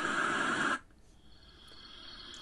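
Steady hiss from the white noise setting of an Acacia Aurora projector night light plays loud and close for under a second, then cuts off, leaving faint room quiet.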